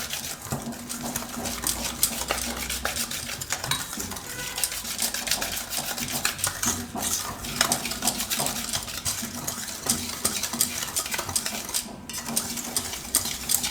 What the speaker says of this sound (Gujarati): આમાં આપણે આ દહીં નાખી દેવું. એને મિક્સ કરી નાખીશું.